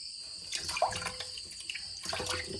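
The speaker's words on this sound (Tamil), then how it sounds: "ஏமா இப்படி தேங்காய் கழுவுற?" Water splashes and trickles as a coconut is washed by hand, likely in a basin or under a tap in a rural village kitchen, with several close, uneven splashing bursts.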